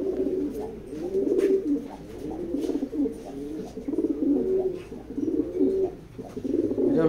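Racing pigeons coo in a steady run of soft, throaty calls, close and fairly loud, with brief overlapping coos and no talking.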